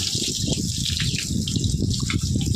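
Water sprays and gushes steadily from a pressure hose washing a buffalo, a loud continuous hiss with splashing against the animal nearby.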